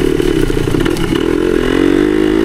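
A 1972 Yamaha DT2 enduro motorcycle engine running close by, loud and steady, with a brief rise in revs partway through and a strong buzzing idle afterward, with no talking.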